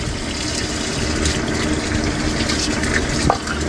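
Water rushing steadily into a Pentair Tagelus TA60 pool sand filter tank, a constant broadband gush with a brief splash near the end, no talking.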